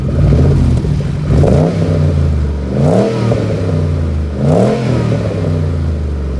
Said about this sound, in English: As soon as the temperature comes up, we give it a few revs